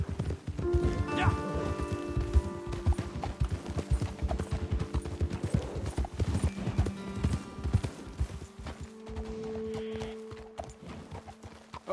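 Several horses clip-clop at a steady walk, hooves knocking continuously and close, while people talk over them, in the video game Red Dead Redemption 2.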